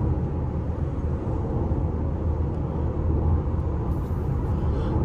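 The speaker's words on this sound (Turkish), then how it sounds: "Teker sesi en belirgin ses." Inside a 2024 Skoda Superb 1.5 eTSI 150 cruising in top gear at high speed, tyre and road noise forms a constant low droning rumble with a faint airy hiss and no talking.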